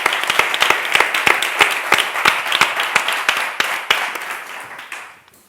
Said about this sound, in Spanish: un aplauso y muchas gracias a todos